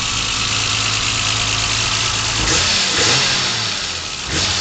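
BMW M635 engine heard from the rear exhaust, idling loudly up close and then rising in quick throttle blips before settling back.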